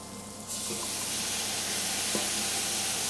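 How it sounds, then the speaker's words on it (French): A pan bursts into a loud, steady sizzle as calvados and white wine hit it to deglaze, the hissing continuing evenly with a faint clink partway through. "on va déglacer au calvados et moitié calvados, moitié vin blanc"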